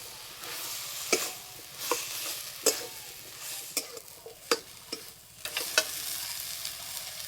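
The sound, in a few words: stir-frying washed greens with spices in a pan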